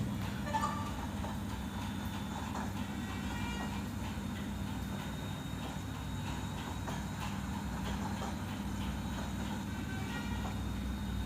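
A train rolling steadily in a mobile train driving game, with a continuous low rumble and faint rhythmic clatter of wheels on rails, mid-distance, unbroken throughout.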